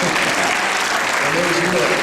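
An audience applauds steadily, a dense continuous patter of clapping hands, with a voice faintly audible underneath.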